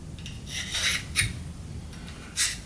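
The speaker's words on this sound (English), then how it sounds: "right now we're just going to rough grind this just to get it a little bit easy before heat treat" Rough grinding of a steel fixed knife blade before heat treatment, heard as short rasping bursts that come and go in uneven passes, close and fairly quiet, with no talking.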